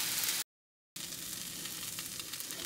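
Onions sizzle and fry in a pan for a Philly cheese steak: a steady, quiet hiss that drops out briefly for half a second before resuming alone.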